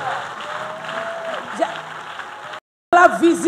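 A church congregation applauds and cheers, a steady crowd wash that cuts off briefly and then returns with louder whoops and a prominent voice over it.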